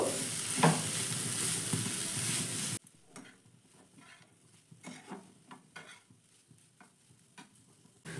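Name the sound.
stirring spices and vegetables in a pan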